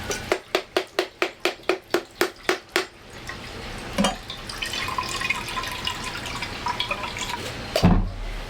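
Coconut water drains from a freshly opened coconut aboard a boat, beginning as a quick run of about a dozen evenly spaced splashing drips, then settling into a steady close pour with a couple of louder knocks.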